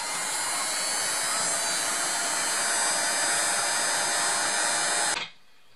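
Heat gun shrinking heat-shrink tubing onto a rubber duck antenna for a Yaesu FT 416 radio, a loud steady fan-and-heater roar that runs evenly for about five seconds and then cuts off abruptly.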